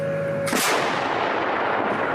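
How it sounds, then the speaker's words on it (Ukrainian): A single heavy Pion self-propelled howitzer shot booms out loud and close, followed by a long rumbling decay and echo. "Навівся, оповістив всіх, що буде постріл, і робиш постріл."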